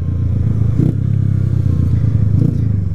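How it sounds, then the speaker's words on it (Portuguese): A Honda CG 125 Fan motorcycle running on ethanol, its single-cylinder engine loud and close with a steady low throbbing idle-to-rev rumble and brief uneven stumbles, no talking. "Só que a moto não é de boa, lá. Ó, acelerar e tal, ela vai de boa. Só dá aquela embaralhadinha de vez em quando."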